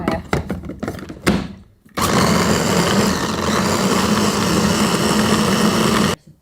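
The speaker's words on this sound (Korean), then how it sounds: "얘를 갈아서 오늘 육수를 쓸 거예요" An electric blender or mixer grinds broth ingredients with a little water. Clattering knocks come first, then a loud steady whirring roar that runs for about four seconds and cuts off abruptly.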